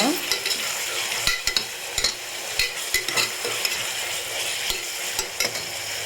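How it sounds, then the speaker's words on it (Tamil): Onions sauté steadily in a hot pan for dried-fish biryani, sizzling while a utensil scrapes and stirs with repeated clacks against the metal. "வெங்காயத்தை சேர்த்து நல்லா வதக்கிக்கோங்க வெங்காயம் நல்லா பொன்னிறமாக வதங்கணுங்க"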